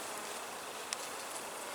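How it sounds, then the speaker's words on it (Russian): Honeybees shaken off a brood frame during hive work, heard as a steady, faint swarming buzz that fills the whole stretch with one small knock midway and no talking. "Пчелу я оставляю здесь, мне она не нужна там. Сейчас аккуратненько стряхиваем."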